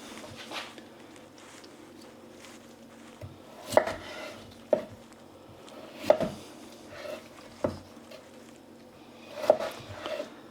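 Sharp knife chops on a cutting board, about a half dozen distinct taps at irregular intervals, close and fairly crisp, as potatoes are diced into cubes.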